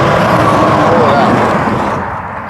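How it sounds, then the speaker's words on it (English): Big trucks roar past on a Canadian highway, a loud, close wash of engine and tyre noise that eases off slightly as they move away. "A lot of big trucks coming."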